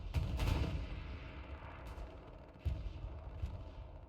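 Distant artillery and gunfire in a World War II multiplayer battle game, with heavy booming blasts at the start and a few more muffled thuds and cracks after it, heard alone with no voices.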